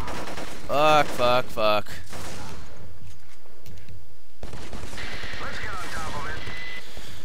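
Bursts of gunfire from the PS2 first-person shooter Black on a PS3, several rapid volleys early on, then a steady broadband din of battle as a man swears once.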